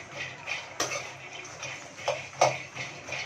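Fox nuts (makhana) stirred and roasted in a pan, heard as light, sparse clicks and rattles of a spoon against metal over a quiet background.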